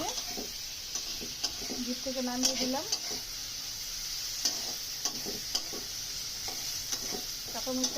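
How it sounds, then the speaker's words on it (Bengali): Onion and green chillies frying together in a pan make a soft, steady sizzle broken by sharp ticks and scrapes of stirring, while a voice speaks briefly over it. "এবার আবার পেঁয়াজটাকেও এই কাঁচামরির সাথে ভেজে নিচ্ছি"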